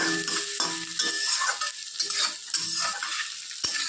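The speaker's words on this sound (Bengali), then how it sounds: "পেঁয়াজ কুচি কাঁচা লঙ্কা ছিঁড়ে নিয়েছি, তো ওইগুলো দিয়ে এখন ভালো করে ভাজতে হবে, লাল লাল করে" Chopped onion, garlic and green chilli fry in a pan for spinach curry, sending up a close, steady sizzle with a run of stirring scrapes and one sharp metallic clack near the end.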